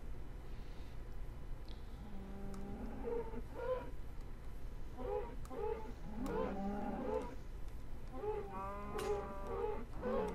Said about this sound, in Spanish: que he visto ahí un par de vacas